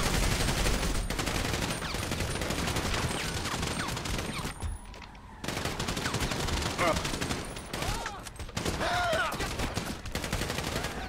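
Heavy gunfire rattles through a FiveM GTA V roleplay session in Blaine County, dense rapid bursts with a brief lull midway, mixed with shouting voices throughout.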